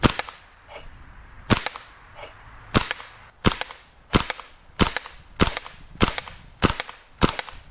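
An airsoft submachine gun fires about ten sharp, close shots in a shooting test at roughly 50 to 60 feet. The shots start irregularly, then settle into a fairly even rhythm, each one a crisp snap with a short tail.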